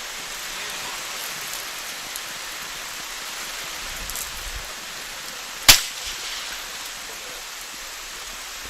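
Strong rain hisses steadily throughout an outdoor para trap shooting final, with one sharp shotgun-like crack standing out briefly near the end.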